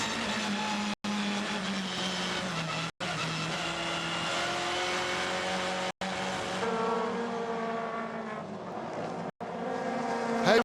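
Race cars in a 2016 WTCC touring car race at Paul Ricard, France, sweep past at high speed, a loud continuous engine roar with shifting pitch and brief cuts, heard close and alone.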